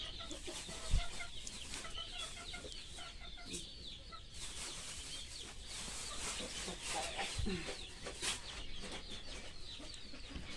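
Chickens cluck and murmur continuously in a noisy outdoor setting, with a few sharper calls and knocks scattered throughout.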